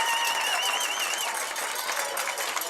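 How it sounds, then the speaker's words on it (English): A crowd at a high school football game between BFA-St. Albans and North Country cheers and applauds steadily after a dramatic come-from-behind win, a dense wash of clapping and shouts holding at even loudness with a few whistles. "So, folks, listen to that crowd here at the Collins Pearly."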